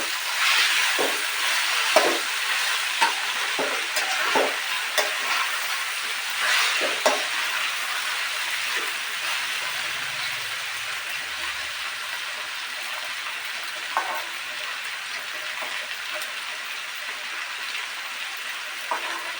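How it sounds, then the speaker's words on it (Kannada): Vegetables for upma sizzle steadily in hot oil, with a close, continuous hiss and frying crackle broken by a few louder scrapes of a spoon stirring the pan; no one talks. "ಈಗ ಸದ್ಯಕ್ಕೆ ಇದು ಬಾಯ್ಲ್ ಆಗಲಿ, ಎಣ್ಣೆಯಲ್ಲೇ ಫ್ರೈ ಆಗಲಿ. ಈಗ ಸ್ವಲ್ಪ ಇದಕ್ಕೆ ಮತ್ತೊಂದು ಸಲ ನಾವು ಮಿಕ್ಸ್ ಕೊಡೋಣ."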